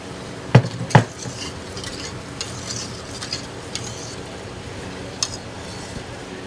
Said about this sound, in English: we're going to bring it back to a rolling boil that can't be stirred down.